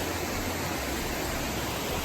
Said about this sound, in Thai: น้ำตกคลองน้ำไหลนะครับ สวยครับ ดูน้ำน้ ำใสจิ๊บ